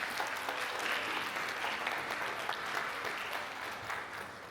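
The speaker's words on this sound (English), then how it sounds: "So can the graduates return the favor and give a round of applause to your family and your support team?" Steady crowd applause rolls on at a graduation ceremony as the audience claps continuously, moderately loud with no speech over it.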